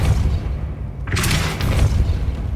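A Depulso spell is cast in the game Hogwarts Legacy: a sudden bright whooshing burst midway, over a constant low rumbling game backdrop.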